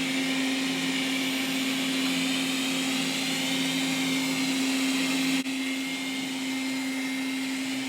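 A Roborock S5 robot vacuum runs with a constant loud whirring drone and steady motor hum, close up and unbroken apart from a slight dip near the end, with no talking.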